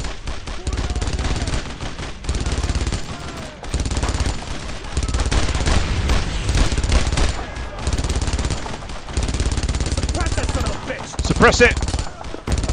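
MG-42 machine gun fire in the WWII shooter Brothers in Arms: long, rapid, ripping bursts separated by short pauses, loud and close, with a voice calling out between volleys.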